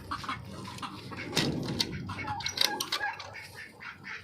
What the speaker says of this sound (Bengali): হাঁস মুরগি সব আছে এখানে।